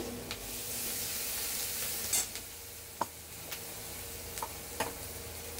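Potato and eggplant fry in a pan as green chilli and ginger go in, a quiet steady sizzle broken by a few sharp clicks and scrapes of stirring.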